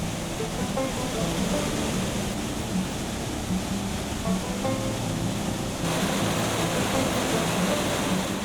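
A powerful waterfall in Canaima thunders in a steady, dense roar of rushing water, loud and continuous throughout with no voices.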